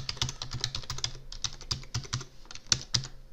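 Password typed on a computer keyboard during Windows server setup, a quick irregular run of close, crisp key clicks with no talking.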